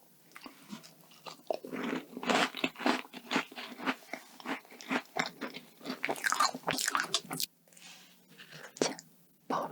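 Close, crisp bites and chewing of a cream-filled croissant pastry, repeated flaky crunches in an irregular rhythm with brief quiet gaps, intimate and loud against a near-silent background.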